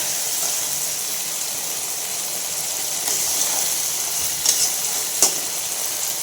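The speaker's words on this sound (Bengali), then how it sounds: "এই ভাজা বেগুনগুলো, নাড়িয়ে চাড়িয়ে শুকানোর অপেক্ষা করবো।" Eggplant frying in oil in a home kitchen while being stirred, a continuous bright sizzle with a few sharp scrapes and clacks from the utensil.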